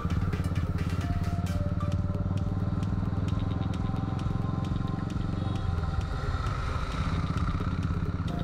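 A motorcycle rides along a road toward a rural tourist spot, with a constant close engine drone, wind rumble and faint rattles running through the whole stretch.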